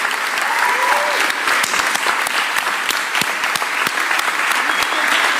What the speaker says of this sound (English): please make sure you give her a big round of applause